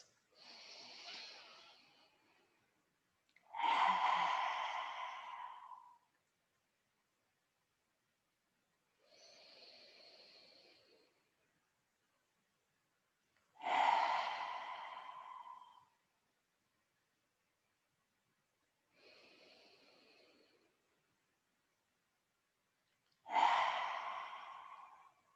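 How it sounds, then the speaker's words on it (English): Lion's breath exercise during a yoga breathing session: three slow, quiet inhales alternate with three loud, forceful open-mouthed exhales, each a few seconds long, separated by silence and with no words. "you're really welcome to stick your tongue out and widen your eyes into lion's breath to release the tension across the face"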